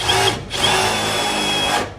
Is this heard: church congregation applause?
no